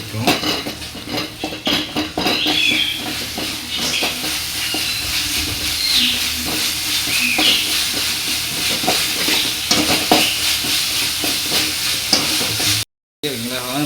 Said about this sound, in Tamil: கொஞ்சோண்டு காஷ்மீர் மிளகாத்தூள் போட்டு இது நல்லா கொஞ்சம் பச்சை வாடை போகிற அளவு வதக்கிக்கிறோம்